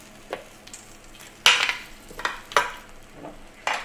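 Roasting potatoes stirred in a pan alongside a lamb shoulder, a few scraping, clattering strokes with a soft sizzle underneath, close and fairly loud with no talking.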